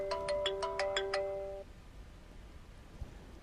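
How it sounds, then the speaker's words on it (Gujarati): A phone ringtone plays a quick bright melodic run of repeated electronic notes for about a second and a half, then stops, leaving a quiet room. "ફોન આવ્યો."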